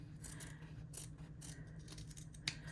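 Scissors snip through quilting fabric between two parallel seams about half an inch apart, a series of close, quiet cuts over a steady low background hum.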